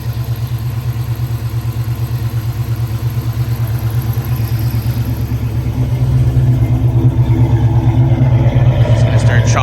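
A 2010 Chrysler 300C with a 5.7 engine, stage 2 cam and Hellcat lifters on a cold start: loud, close, steady lumpy idle throbbing continuously and building slightly louder toward the end.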